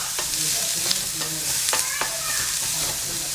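Onions with salt sautéing in a pan, a continuous close sizzle broken by repeated spoon scrapes and stirring clacks at an irregular rhythm, with no voices.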